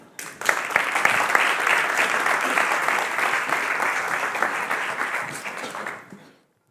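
A crowd at a city science summit claps steadily for a speaker, dense applause sustained for about six seconds before fading out.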